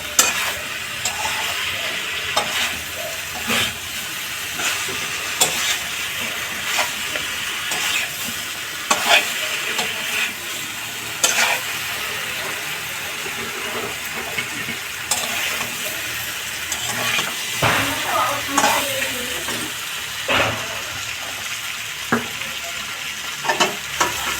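Masala spice paste frying in oil for a vegetarian bori and cauliflower curry, stirred continuously, a steady close sizzle broken by frequent scraping and clacking strokes of a spoon against the pan, no talking.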